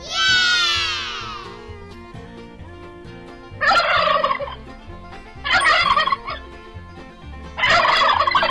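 A turkey gobbles three times in rapid rattling bursts, close and loud, after a high squealing call, with a low steady hum underneath.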